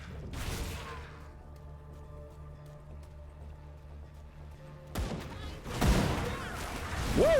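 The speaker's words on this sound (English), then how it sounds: "they do a lot of piercing damage with those rifles" Rifles fire in a video game as two short, loud volleys, one at the start and another partway through, separated by a low rumbling lull, with a person talking right after the second volley.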